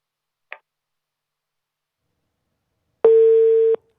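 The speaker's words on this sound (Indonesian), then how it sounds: "Sayang sekali kita terputus sambungan telepon bersama dengan jurnalis Kompas TV, Kika Madona" A telephone busy tone sounds after a dropped phone connection during a live TV news link, one steady loud tone lasting under a second, preceded by a short click and otherwise silence.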